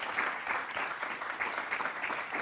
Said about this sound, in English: give him, before we begin, another round of applause for this book